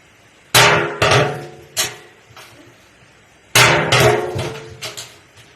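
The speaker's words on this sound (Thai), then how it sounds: "ใช้ค้อนตีหัวตะปู" A hammer drives a nail to punch holes in a metal rice husk burner bucket, giving several sharp, ringing metallic strikes in two bursts separated by a short pause, close and loud.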